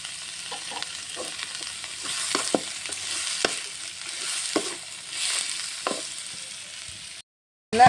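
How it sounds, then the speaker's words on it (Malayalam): Onions frying with a pinch of salt in a pan, a steady sizzle broken by repeated scrapes and clinks of stirring, close and alone before a brief drop to near silence at the end. "സവാള ഞാൻ നല്ലവണ്ണം വശക്കി എടുക്കാൻ പോവുകയാണ്"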